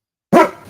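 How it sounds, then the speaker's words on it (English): A single sharp dog bark heard close and loud during a live watch-along of a football cup final, starting abruptly after silence and trailing off quickly with no talk over it. "We need the dog barking"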